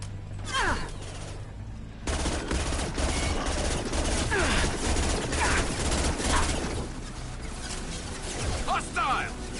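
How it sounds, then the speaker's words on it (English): Rapid gunfire fills a Mass Effect 2 firefight, dense bursts and scattered shots with mechanical clatter and whooshing effects, while voices talk over the shooting. "Stop shooting, Shepard."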